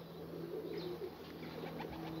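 Racing pigeons return to their loft after a 100 km training flight, and soft cooing drifts in at a distance under a steady outdoor hum, with faint chirps and rustling.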